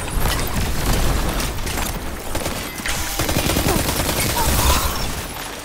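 Dense rapid gunfire and grenade explosions in the video game Destiny 2, volleys of shots rattling almost without pause alongside mechanical clicks and a couple of heavier blasts, loud throughout with no talking.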